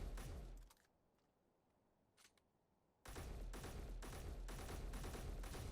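Rapid bursts of automatic gunfire in the Space Engineers video game, shooting downward against tarps and nets, rattle loudly at the start, stop for a quiet stretch with a brief burst, then resume as a sustained dense, pulsing fusillade.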